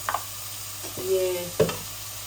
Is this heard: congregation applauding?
no